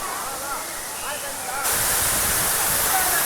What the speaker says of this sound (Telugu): వాటర్ ఫాల్స్ దగ్గరికి అయితే వచ్చేసాము.